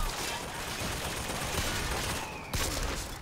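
Steady, loud gunfire from Bioshock Infinite fills the scene in a dense, crackling barrage of close shots, with one sharper crack near the end.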